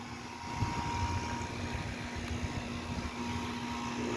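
An American Standard central air conditioner runs steadily outdoors, its fan motor producing a constant even hum and whoosh with a faint steady tone, heard alone throughout.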